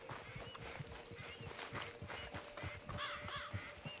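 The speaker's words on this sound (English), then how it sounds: "Really interesting sounding bird." Bird calling in the video game Red Dead Redemption 2, a series of harsh caw-like calls over a busy outdoor ambience with faint thuds, brighter warbling notes rising near the end.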